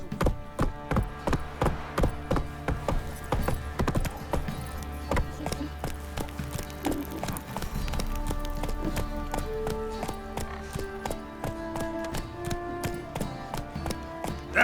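Roach, a horse in The Witcher 3, gallops with a steady, rapid clip-clop of hooves close by over a background of game music, with no talk over it.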